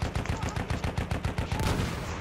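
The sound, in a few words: SMG gunfire in the video game Battlefield 1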